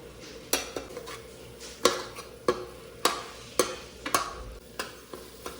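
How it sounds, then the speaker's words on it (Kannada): Turmeric, chilli, coriander powder and garam masala fry in a pan while a spoon stirs and scrapes against the metal at a steady pace, each stroke clinking over a soft sizzle. "ಈಗ ಒಂದು ಸ್ವಲ್ಪ ಹಸಿ ವಾಸನೆ ಹೋಗೋ ತನಕ ಇದನ್ನು ಫ್ರೈ ಮಾಡ್ಕೊಳ್ಬೇಕು"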